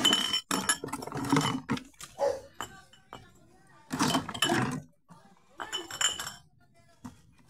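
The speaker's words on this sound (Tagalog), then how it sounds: "Bubog lang yun. Bubog. Oh, bubog lang." Glass bottles and broken glass shards clink and clatter in irregular bursts as junk is sorted by hand, on a rainy day of scrap collecting, with people talking between the knocks.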